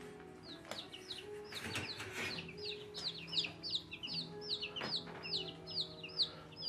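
Chickens cluck in a long series of quick, close calls behind a fence, rising and falling in a busy rhythm with a few dull knocks and bumps mixed in.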